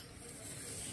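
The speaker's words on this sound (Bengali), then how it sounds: "গাড়ি আসছে, জল ছিটতে হবে, জল ছিটকে লাগবে" A vehicle sprays water off a rain-soaked road, a brief, faint hiss of splashing that builds slightly as it passes.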